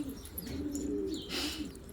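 A dove coos softly in low, rounded notes, with faint chirps from other birds in the background; no voices.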